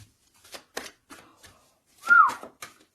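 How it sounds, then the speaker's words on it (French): A person gives one short, clear rising-and-falling whistle, set among soft tapping and shuffling clicks in a quiet room. "Non, c'est pas bien sifflé, pardon."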